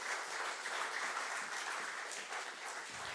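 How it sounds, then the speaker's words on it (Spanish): Applause at a church service, a dense continuous clatter of many hands clapping together, sustained at an even level before tapering slightly at the end. "Denle un aplauso al Señor"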